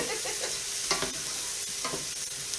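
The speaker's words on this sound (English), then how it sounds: "this steam right here, that's all the water we're cooking out" Chicken marsala cooks in a hot pan as its water boils off, giving a dense, continuous sizzle with bubbling, spitting bursts throughout.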